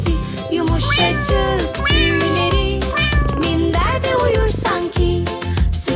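A sung voice imitates cat meows over loud, continuous, upbeat children's music with steady beats.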